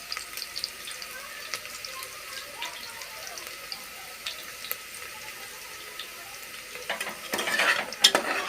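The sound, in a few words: onions frying in oil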